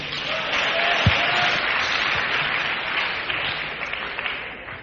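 A church congregation at a sermon bursts into sustained applause, a dense wash of clapping from a large audience that holds steady throughout with a single low thump near the start.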